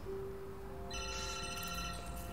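A telephone rings in the video game Detroit: Become Human, a steady electronic ringing tone that rises in clearly out of a quiet background hum and continues to the end, with no voices.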